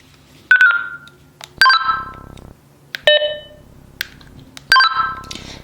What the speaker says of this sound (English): turn the volume all the way up, and then press the push to talk so you can see how loud it is